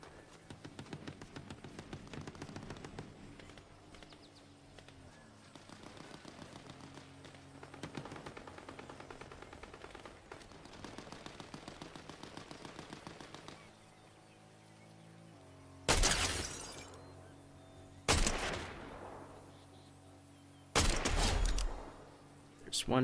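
Fortnite gunfire crackling in rapid bursts through the first half, then three loud, sharp volleys of shots near the end, with game sounds in between.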